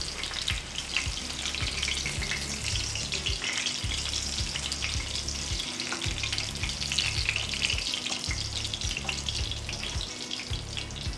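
Martabak frying in hot oil in a pan, giving a steady close sizzle and crackle with occasional utensil stirring clatter throughout.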